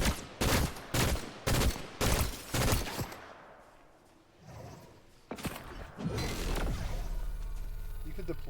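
Video game gunfire rattles off in six sharp, loud bursts at a regular rhythm. Rumbling noise follows, then a louder sustained blast of fire and mechanical clatter.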